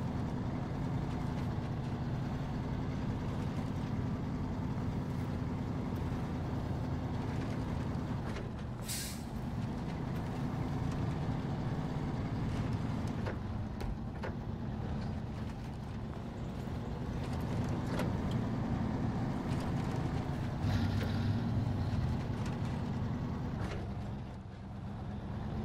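A truck engine drones steadily while the vehicle grinds through deep mud in the Snow Runner off-road game on Xbox One X, with a sustained low rumble and brief higher hissing bursts, loud and continuous throughout.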